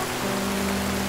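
A sudden rain shower patters as an even, hissing spread of drops on surfaces, steady and fairly loud over a faint low hum, with no voices.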